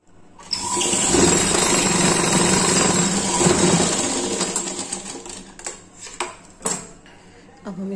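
Sewing machine stitching a fabric strip onto a small summer dress for a Laddu Gopal figure, a close, steady mechanical whir for several seconds, then a few sharp clicks and knocks as it stops.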